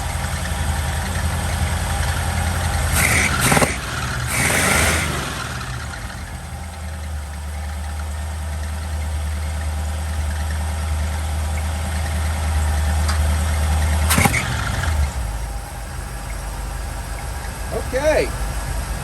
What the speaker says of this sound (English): That sounds like a belt.